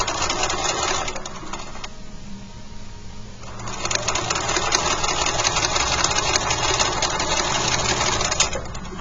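A sewing machine stitches a basting seam to attach a pocket onto a bag, its steady mechanical whir running loud and close for most of the stretch, with a short lull partway through before the motor picks up again.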